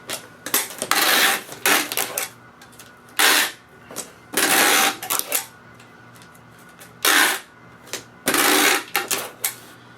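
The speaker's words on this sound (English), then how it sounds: "repeat the process of taping up the tops and the corners and the sides that I did on the bottom" Packing tape ripped off the roll and pressed onto a cardboard box for shipping fish, heard as several loud, close screeching pulls in bursts separated by short pauses, with no voices.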